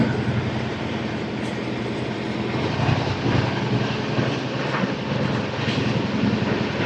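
The Andhra Pradesh Superfast Express from Visakhapatnam to New Delhi, skipping Uppal station, passes with a loud steady rumble and rattle of wagons rolling by close at hand.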